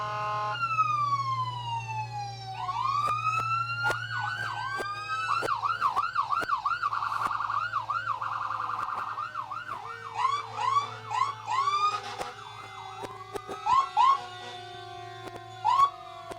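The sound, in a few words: emergency vehicle sirens in Christmas parade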